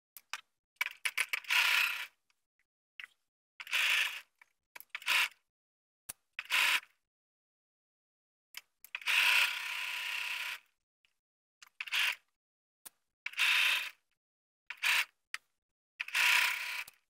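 A sewing machine stitches pants along the center seam in a string of short, quiet mechanical bursts with gaps between them, and one longer run near the middle, with no talking.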